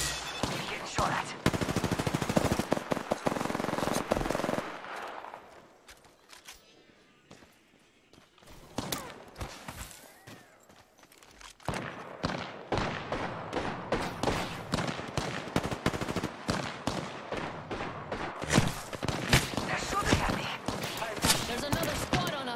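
Rapid automatic gunfire from the Apex Legends video game, with dense bursts of shots and a brief lull in the middle before firing resumes, while a character voice speaks intermittently.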